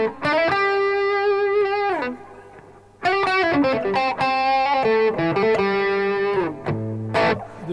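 Electric guitar through the bridge humbucker pickup in series position, no effects, reverb or delay, with a bright, slightly gritty tone playing sustained chords and note changes, dry with no echo, several phrases with brief pauses.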